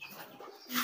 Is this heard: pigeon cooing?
yes